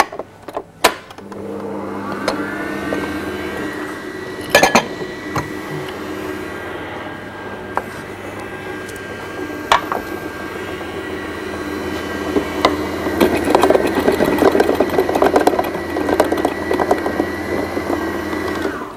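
An electric mixer whirs through brownie batter of flour, cocoa and salt, a sustained motor hum with scattered clunks and knocks, growing a little louder toward the end.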